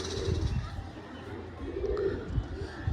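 At a pigeon shop, several pigeons coo in low rolling bursts that recur through the clip, with faint background chatter and handling noise.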